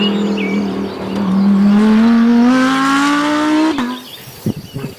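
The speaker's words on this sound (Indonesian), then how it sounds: "Ini mobil balap." A toy race car gives a loud, steady rising whine like a revving engine, climbing in pitch for several seconds before cutting off abruptly, followed by a few clattering knocks.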